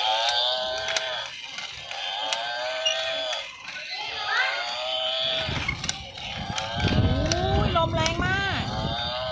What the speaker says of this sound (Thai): บัฟฟาโลควาย